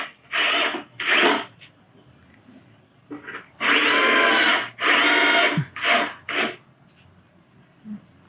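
A power drill drives screws into melamine furniture panels in several short whirring bursts of about a second each, separated by quiet gaps, close and loud.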